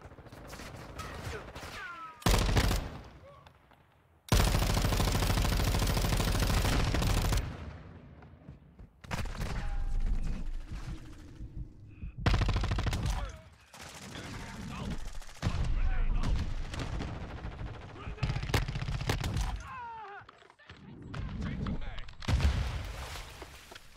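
Light machine gun fire in Modern Warfare 2 rattles in long sustained bursts and short volleys, loud and close, mixed with game effects, while a player talks between the shooting.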